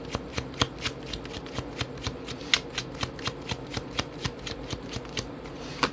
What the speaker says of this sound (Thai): ทีนี้เดี๋ยวแม่หมอจะเปิดไพ่อีกสำหรับหนึ่งให้นะคะ